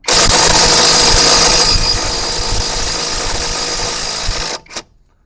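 ELTOS cordless impact wrench fitted with an 8 Ah battery, unscrewing a nut: a loud, close, continuous buzzing hammer that runs steadily for about four and a half seconds before cutting off abruptly.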